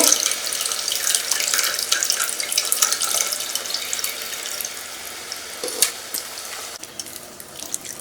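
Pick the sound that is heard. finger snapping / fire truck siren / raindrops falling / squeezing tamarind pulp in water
squeezing tamarind pulp in water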